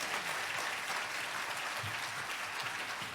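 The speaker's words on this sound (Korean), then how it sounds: "박수로 목사님 모시겠습니다." A church congregation applauds to welcome a pastor to the pulpit, a steady, even wash of clapping filling the hall throughout with no talk over it.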